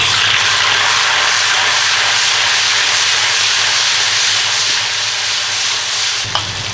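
Sichuan peppercorns and broad bean chili paste sizzle in hot oil and lard in a wok, a loud, dense, continuous hiss heard up close with no talking.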